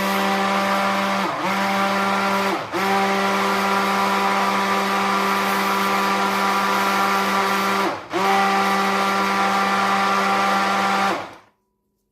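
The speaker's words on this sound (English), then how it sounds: "I'm gonna grab the immersion blender here to start to fully incorporate the powders" Immersion blender whirring while mixing powders into a tallow lotion. A loud, steady motor whine runs almost unbroken for about eleven seconds, dipping briefly three times, then stops abruptly.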